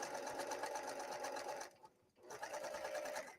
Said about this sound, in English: I really just want to sew these two pieces together.